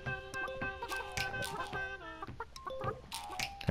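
Several chickens in the video game Burly Men at Sea cluck and squawk in quick, uneven bursts, close and fairly quiet, with no talking.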